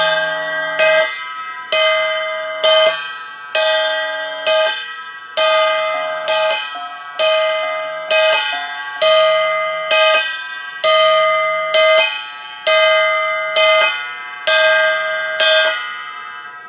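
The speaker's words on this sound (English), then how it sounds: "now for the second gong in the set, this is the one that responds first to the beat of the lead gong" A second Cordillera gong in a festival gong set answers the lead gong's beat, struck in a steady even rhythm of about a dozen loud, bright metallic strokes, each ringing out and fading before the next, with no voices.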